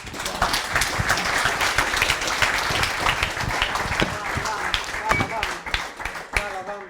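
An audience applauds two speakers, Janja Božič Marolt and Janez Škrabec, with a burst of many hands clapping that is lively at first and thins out toward the end, mixed with faint chatter.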